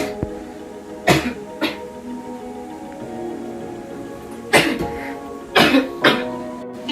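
Several short, dry coughs at irregular intervals, fairly close, with a faint steady background between them.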